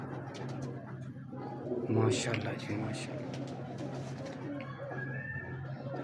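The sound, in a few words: pigeons cooing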